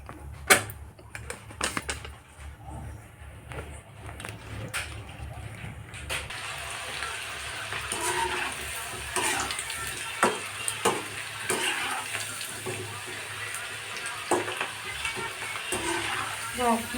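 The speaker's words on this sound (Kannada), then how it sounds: "ಈಗ ಫ್ರೈ ಮಾಡೋಣ. ಎಣ್ಣೆ ಬಿಸಿಗೆ ಇಟ್ಟೀನಿ." Batter frying in a pan of hot oil at home, a steady sizzling crackle running throughout with occasional stirring clatter, louder and busier in the second half; no voices.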